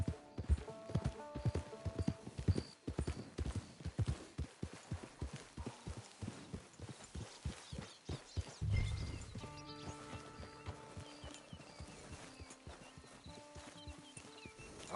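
Horse hooves clip-clop steadily in a video game, a rapid, loud rhythmic trot that slows and gives way to a softer ambient musical bed near the end.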